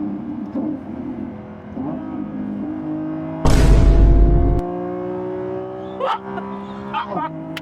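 A Lamborghini Revuelto's engine at full throttle in performance mode holds a droning, slowly climbing hum, with a loud broadband rush partway through and brief knocks near the end, while people talk inside the cabin.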